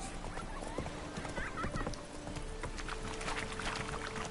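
Hooves of a black horse clip-clop rapidly in a video game, a steady galloping patter close up, with occasional whinnies and a faint voice underneath.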